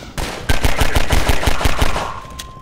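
Rapid bursts of enemy gunfire in Half-Life 2, a steady run of about ten sharp, loud shots in quick rhythm, close and clear with no voice over them.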